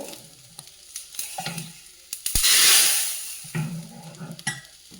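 Curry leaves hit hot oil in a pan with a sharp burst of loud, close sizzling that swells and fades, framed by stirring clatter before and after.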